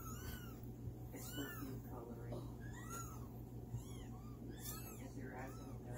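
Several young kittens meow repeatedly in high, overlapping cries close by during nursing care, with a person speaking softly among them.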